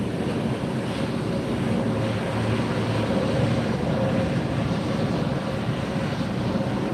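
An arriving airliner at Fort Lauderdale airport gives a steady, broad engine roar that stays fairly even throughout, with wind noise on the microphone and no talking.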